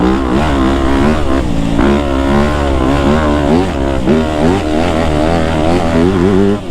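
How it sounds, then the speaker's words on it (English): A 2025 Yamaha YZ250F dirt bike engine drones loud and close during a freeride, its pitch rising and falling steadily as the rider works the throttle without a break. "Back onto the dirt bike."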